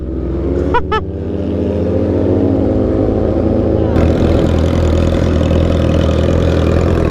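A sports bike engine idles loud and close with a steady low rumble, a pair of brief tonal chirps early on and a fuller, harsher roar from the midpoint, under occasional voices.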